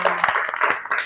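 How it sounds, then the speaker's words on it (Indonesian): A classroom of students breaks into a brief, scattered burst of clapping lasting about a second, with faint voices mixed in. "Oke, tepuk tangan untuk kalian semua."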